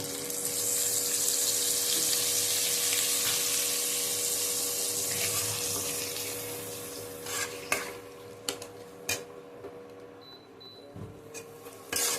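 A splash of water goes into ground spices frying in a pan while cooking khesari and chana dal dhoka dalna. It makes a loud, steady hiss and sizzle that fades, then gives way to a few scattered clinks and stirs.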